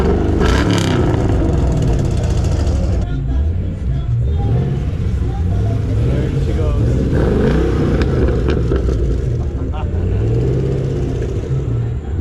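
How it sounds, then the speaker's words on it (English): Deep, throaty rumble of a track-built muscle car at a car meet in Kendall, Florida, loud and close with rising revs as it pulls away, and people talking over it. "that is just like a deep, throaty muscle car that's obviously built for the track"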